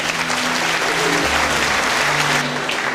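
A crowd at a primary school ceremony at Laerskool Phalaborwa applauds the girls' school patrol, giving a steady, dense burst of clapping throughout with no talk.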